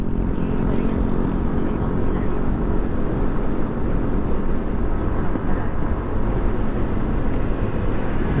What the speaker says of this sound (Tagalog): Yung mga dumadaang motor doon.